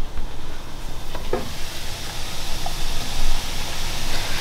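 Onions hit a hot pan with a loud, close, steady hiss of sizzling that runs without a break, with a faint clink near the middle and no one speaking.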